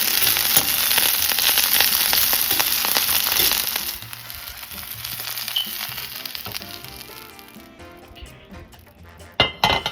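Onions frying in a pan with a steady, loud sizzle that drops to a quieter crackle partway through, followed by a few utensil clinks near the end.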